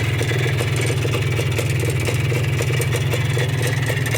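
A 1988 Minsk motorcycle engine runs steadily at idle, a strong low throbbing pulse held close and constant with no speech over it.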